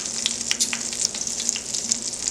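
Spinach ricotta ravioli pan-fry in butter, a close, steady high sizzle with scattered popping spits throughout.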